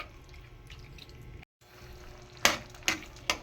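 Squid cooking in a pan being stirred, a soft steady simmer and sizzle with a few sharp scraping clinks of a utensil against the pan near the end, close and fairly quiet.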